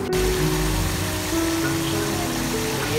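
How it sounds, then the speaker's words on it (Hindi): Water poured into mutton frying in a pan, giving a steady hissing, bubbling sizzle that stays close and continuous for a few seconds, with no talk. "इसको अच्छी तरह भूनें और हाफ प्याली पानी के इसमें ऐड कर दें।"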